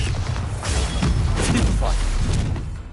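Bombarda explosion spells in the video game Hogwarts Legacy, with dull booms and thuds landing among the clatter of battle, while a voice talks over the action.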